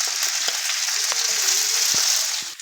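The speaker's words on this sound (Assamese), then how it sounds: "এপিচ এপিচকৈ দি মই ধুনীয়াকৈ ভাজি ল'ম।" Mogu dal fritters fry in hot oil with a close, steady crackling sizzle and occasional stirring knocks for a few seconds.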